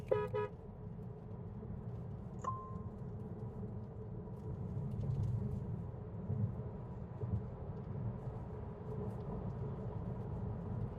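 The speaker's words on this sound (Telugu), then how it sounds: "ఓ, కార్ లిటరల్లీ ఇట్లా వెళ్ళిపోతుంది యాక్సలరేషన్ మొత్తం అనేది." An MG Windsor EV electric car accelerates in sport mode, heard from inside as a steady low road and tyre rumble that swells slightly partway through, after a short horn toot at the start.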